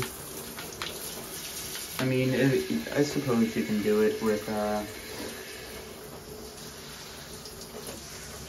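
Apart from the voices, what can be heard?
detachable shower head rinsing a bike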